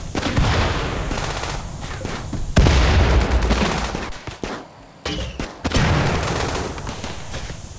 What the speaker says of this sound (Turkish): Roket tehlikeli bir silah abi